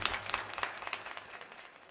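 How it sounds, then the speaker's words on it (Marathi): Audience clapping at a Marathi kirtan, a steady patter of many hands that tapers off over two seconds, fairly distant with a faint low hum beneath. "त्यांच्याकरता एकदा टाळ्या वाजवा"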